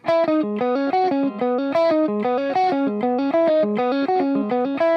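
A distorted electric guitar plays a fast, busy repeating riff of picked notes, loud and bright, looping the same pattern a couple of times.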